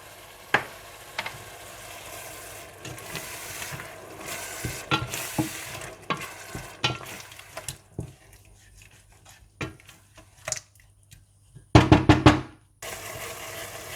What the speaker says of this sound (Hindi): पिसी हुई काली मिर्चें, नमक, भुना कुटा ज़ीरा, गरम मसाला और चीनी डालकर अच्छा सा मसाला भून लें